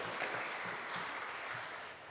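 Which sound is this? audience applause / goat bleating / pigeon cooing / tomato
audience applause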